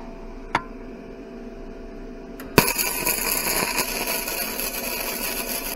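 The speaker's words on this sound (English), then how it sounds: "I'm just going to tack this in place. I've got the wire speed set way down" A MIG welder lays a tack on a steel bracket with the wire speed turned low, starting with a sharp strike and then a steady close crackling buzz that runs to the end, preceded by a couple of brief clicks.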